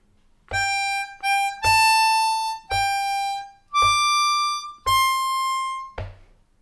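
A C harmonica plays the opening line of Happy Birthday as six clear, reedy blown notes in a short melodic phrase, close and alone.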